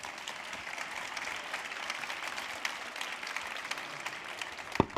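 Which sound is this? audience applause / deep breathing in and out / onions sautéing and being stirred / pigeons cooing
audience applause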